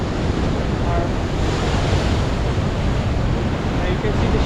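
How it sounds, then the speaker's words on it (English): Ocean surf washes continuously onto a beach in Aberdeen, Scotland, making a broad, steady rushing roar mixed with wind buffeting the microphone. "I love the ocean."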